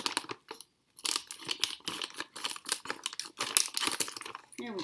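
Scissors snip and crinkle through plastic packaging in a kitchen while making edible peanut butter play dough, a run of short, close crunchy cuts and rustles with brief pauses.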